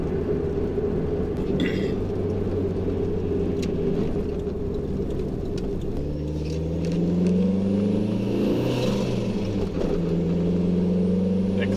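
A 430hp Toyota MR2 SW20 accelerates hard, its engine droning steadily and then rising into a loud, climbing roar about halfway through, heard close with no talking.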